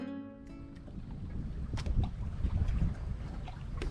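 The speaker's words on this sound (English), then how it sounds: "So I got the motor's running." A small boat's outboard motor runs close by with a low rumbling churn mixed with wind buffeting on the microphone, growing slightly louder across the few seconds.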